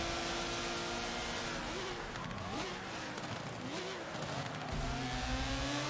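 Race cars in Forza Motorsport 7 (a Subaru BRZ among them) roar past in a video game, engines droning steadily with rising and falling pitch sweeps as they overtake, continuous and loud throughout.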